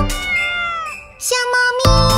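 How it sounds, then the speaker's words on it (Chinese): A cartoon cat meows several times in a children's song, bright, tonal cries rising and falling over a musical backing, loud and close. "小猫咪，小猫咪，喵喵。"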